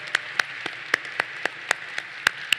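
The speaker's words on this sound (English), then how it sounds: "So let's give them a rousing round of applause for our distinguished Board of Visitors." At the 2023 Norfolk State University fall commencement, spaced claps land in a fairly even rhythm, sounding sparse and faint rather than like a full crowd ovation, with no talk heard.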